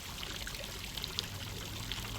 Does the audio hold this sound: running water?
yes